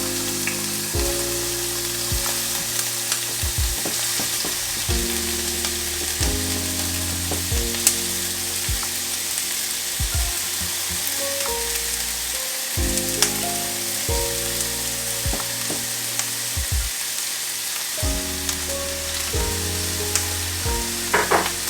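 Canned salmon patties fry in a pan with a loud, continuous crackling sizzle, punctuated by occasional sharp pops and clatters as pieces are set in one by one, with no one speaking.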